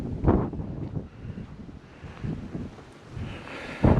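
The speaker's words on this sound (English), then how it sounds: "It's windy as hell" Strong wind buffets the microphone in heavy, uneven gusts, low rumbling bursts rising and falling with no voices.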